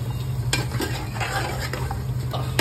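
Potatoes and rohu fish in a red masala are stirred in a frying pan, with a spatula scraping and clinking against the metal in quick irregular strokes over a soft steady sizzle, close and clear.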